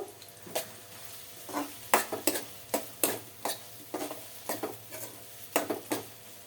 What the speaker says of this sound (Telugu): ఆనియన్స్ అయితే వేగుతున్నాయి కదండి